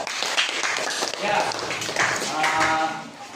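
A classroom group claps hands together during a lesson, a brief burst of scattered clapping mixed with a teacher's voice and students talking over it.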